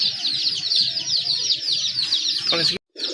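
A dense, continuous chorus of chirps and calls comes from a flock of domestic Rajgolla pigeons for sale, with a rooster-like call rising near the end and a short break.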